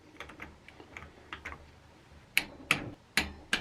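A torque wrench tightens a mountain bike crankset, first with a run of soft ratcheting ticks, then several sharp, louder clicks spaced about half a second apart, close by, with no talking.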